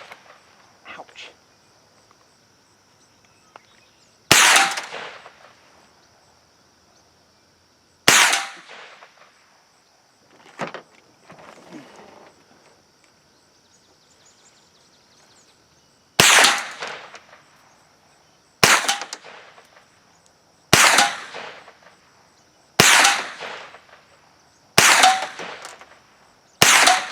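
A .22 rifle, an M&P 15-22, fires at groundhog targets, and the bullets plink off a metal canister behind them. About eight loud, sharp cracks come at irregular intervals, with quieter rustling between them.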